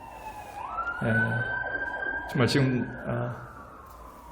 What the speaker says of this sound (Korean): 앰뷸런스를 틀고 좀 차가 지금 비상으로 달리고 있지만